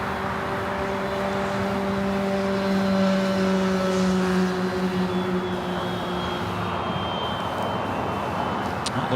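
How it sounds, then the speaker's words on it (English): An Air Premia airliner taxis on a taxiway at LAX, its engines giving a steady, loud whine and rumble with sustained tones that hold across the whole stretch, with no talk over it. "Looks like Air Premia actually heading to the south side on taxiway Delta."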